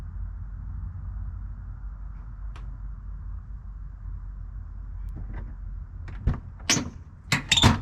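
A quiet hum runs under the sound, then near the end come several sharp thuds and clicks as a 1999–2005 Pontiac Grand Am door is shut and latched.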